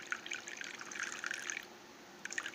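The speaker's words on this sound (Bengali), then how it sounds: "দিব এখানে একটু দুধ," Milk is poured onto an egg in a clay pan, making a faint, close trickle with light dripping splashes that pause briefly before a last few drops. No voices are heard.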